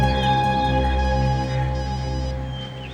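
A steady electronic tone with a low hum underneath, continuous and fairly loud, like a telephone ringing.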